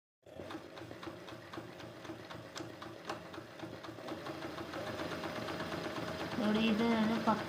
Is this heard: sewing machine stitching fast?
yes